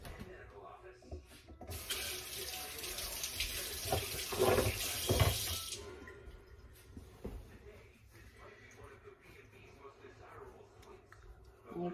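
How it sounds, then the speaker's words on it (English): A kitchen faucet runs for about four seconds as a hand is rinsed under it, a close, hissing stream that starts abruptly and stops, with quiet handling sounds before and after. "I'm gonna rinse my hand"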